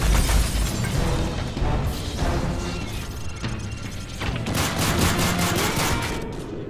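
Sustained gunfire during a plane hijacking in Call of Duty Modern Warfare 3, dense overlapping bursts and shots with crashing impacts, loud and continuous throughout.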